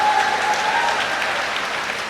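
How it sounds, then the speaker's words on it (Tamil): Audience applause at a Tamil public speech, a steady dense wash of clapping from a crowd, fairly loud and sustained without talk. "அப்துல் கலாமுக்கு கூட அப்புறமா தான் கைத்தட்டல் வருது"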